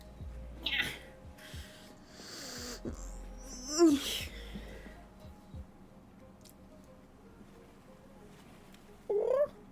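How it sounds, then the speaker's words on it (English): Several cats meowing and wailing indoors, a few separate cries spread across a quiet stretch, the sharpest one near the middle and a short one at the end, with faint background ticking. "Multiple cats."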